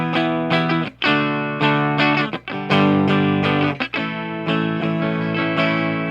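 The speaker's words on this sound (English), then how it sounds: "we'll try that with distortion as well in a minute." Donner DST-550 super strat electric guitar with a humbucker pickup, played through heavy distortion: sustained ringing chords and notes with brief breaks between phrases, loud and close, with no talking.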